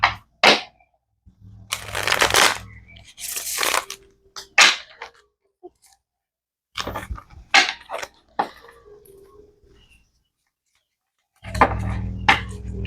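Tarot cards are shuffled by hand, close up, in separate bursts of riffling and slapping with silent gaps between them.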